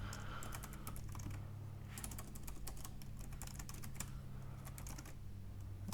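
Fingers tap out a Rails command on a computer keyboard in quick bursts of soft clicks and key presses, heard close but at low volume over a faint steady background hum.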